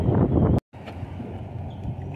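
Steady wind blowing on a windy day at a fishing spot for bluegill and shellcracker, a broad rushing roar that fills the clip, with a brief dropout early on.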